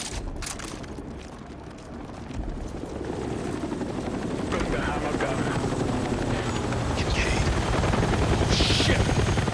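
The Marine One helicopter in the Battlefield 6 game drones with a loud, steady rotor roar that builds over the clip. Distant gunfire crackles and radio voices sit underneath.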